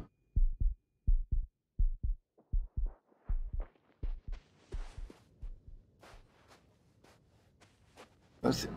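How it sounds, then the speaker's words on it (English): Heavy, rapid heartbeat from the sci-fi game The Invincible pounds in low double thumps, loud at first and then receding under rising hissy, rustling noise, with a sharp loud burst at the end. "hear my heart beating really fast and hard"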